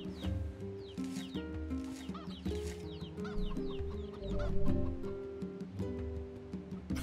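A chicken in the video game NieR Replicant clucks repeatedly in quick, chattering bursts, fairly faint and steady throughout with no voices over it.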